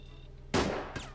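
A single gunshot in the tactical game Silent Storm, one sharp close blast with a short decaying tail and a faint second report just after, over a quiet background hum.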